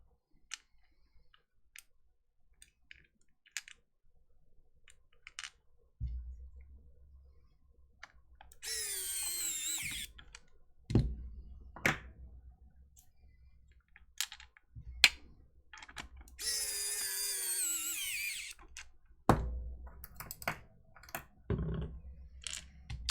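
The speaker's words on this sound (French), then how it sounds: "Heureusement qu'on a la visseuse électrique" An electric screwdriver driving screws into a Virtual Boy controller, with several whirring bursts of a few seconds each among small clicks and handling taps from the plastic parts.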